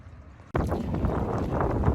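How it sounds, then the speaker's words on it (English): Steady, roaring wind buffets the microphone after a sudden onset on a lake in northern Wisconsin, with a dense rush of rain continuing without pause. "The storm. It is windy, it is rainy"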